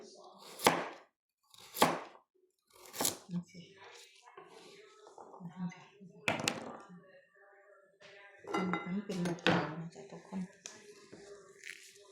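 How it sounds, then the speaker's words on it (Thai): Knife strikes on a cutting board come in a few sharp chops as vegetables are cubed for soup, mixed with light clinks, while a person talks over most of the clip. "มาหั่นเป็นลูกเต๋าคือกันนะจ๊ะ"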